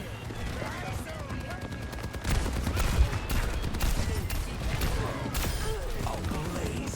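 Rapid gunfire in the Overwatch video game, a dense stream of bursts and shots over a match's background effects, with a voice talking over the action.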